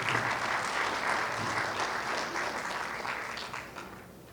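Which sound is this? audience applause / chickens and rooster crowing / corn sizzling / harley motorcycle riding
audience applause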